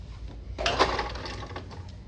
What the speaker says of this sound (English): now we're here at the sewing machine, and I just accidentally hit the foot pedal